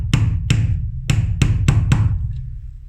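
A hammer taps a washer down onto a rivet with six sharp, evenly spaced metallic knocks, close and loud, followed by a brief quiet tail, with no talk.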